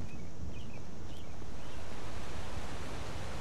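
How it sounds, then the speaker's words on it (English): Muted, muffled waterfall from the game Skyrim without any sound mod: a steady, soft broadband rush of falling water, continuous and even throughout, with faint high bird chirps scattered early on. "And here I am, stood next to a waterfall, and the sound is, well, fairly muted, to be honest."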